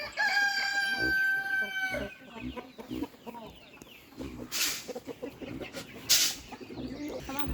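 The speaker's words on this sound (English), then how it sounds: "All the chickens are like, hey, we ready for food." Farmyard chickens clucking with a rooster crowing early on, the calls near and busy over outdoor noise, while children and adults chatter around them in the yard.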